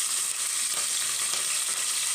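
Curry leaves and green chillies sizzling in hot oil in a pot for a traditional avarekalu rice uppittu: a dense, even crackling sizzle, close and steady for the whole stretch, with no voices.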